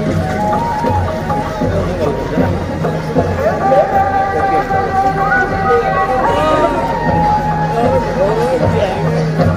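A dense, loud crowd hubbub fills the Sambalpur Lok Mahotsav fair at the Meena Bazaar, with many overlapping voices and chatter all around, and a nearby speaker's voice over it.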